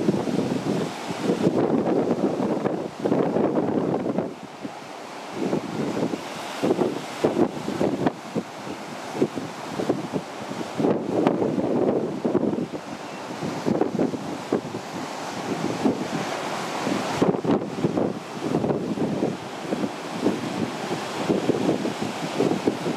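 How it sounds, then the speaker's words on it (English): Strong coastal wind buffets the microphone on a sea cliff above the Pacific, a warning sign rattling in the gusts, with the surf below; steady, loud roaring gusts throughout with brief lulls. "The wind's shaking this sign around quite a bit too."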